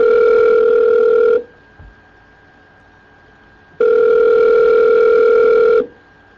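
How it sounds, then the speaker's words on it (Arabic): Two loud, steady electronic telephone tones, each lasting about a second and a half and separated by a gap of silence, sound as a dropped call is redialed. "التليفون اتقفل. نحاول نتصل بيه مرة تانية."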